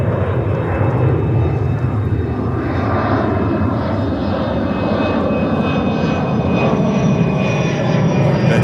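A departing airliner at JFK Airport in New York roars directly overhead, a loud, steady broadband engine rumble with a faint whine that holds strong throughout.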